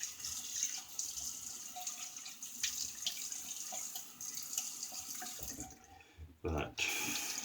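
A bathroom tap runs steadily in a sink while a razor is rinsed during a wet shave, a moderate continuous water hiss that briefly cuts off and then resumes near the end.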